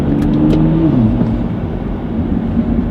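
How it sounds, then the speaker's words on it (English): Tuned BMW X3 35i exhaust burbling and rumbling on a downshift, a steady close engine drone with low pops for three seconds, no talking. "Let's do a downshift. See if the burbles work."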